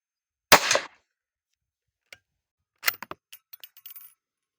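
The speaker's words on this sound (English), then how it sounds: "that was the last shot" A single sharp crack from a Mossberg Chuckster rifle at an outdoor 50 yard range, loud and close, followed after a pause by light clicks and rattles from handling the gun.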